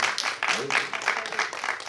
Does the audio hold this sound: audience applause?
yes